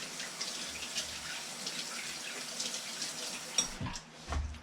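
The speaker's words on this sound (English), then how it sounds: "I'll wash this spoon." A spoon rinsed under a running kitchen tap, a steady quiet stream of water with light clinks and splashes near the end.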